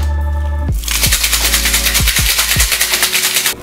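A cocktail shaker holding bourbon, fresh grapefruit juice and honey is shaken hard, a rapid rattling of ice against metal in a steady rhythm, close and loud, ending abruptly after a few seconds.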